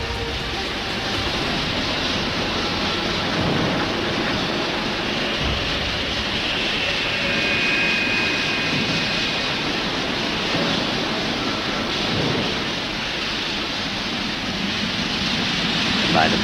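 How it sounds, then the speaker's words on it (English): A new steam locomotive built at the Vulcan Foundry for the Persian government runs during its factory test, giving off a steady, loud, broadband roar and hiss with no clear breaks. "one of the new steam locomotives ordered by the Persian government is ready for testing, and Ted Wilson is going to take his place"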